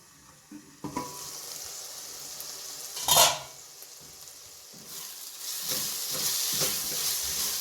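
Fish curry masala cooks in a covered pan with a steady close sizzle and frying hiss, a brief louder burst near the middle, and the sizzle building toward the end.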